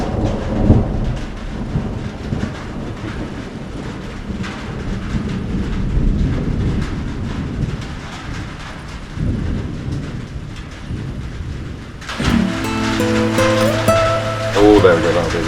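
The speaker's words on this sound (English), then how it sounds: "Oh, thunder!" Thunder rolls over a homestead in Portugal, heavy low rumbling that swells and fades across most of the stretch, with rain-like noise and people talking and exclaiming throughout, before a sudden shift to brighter tonal sounds near the end.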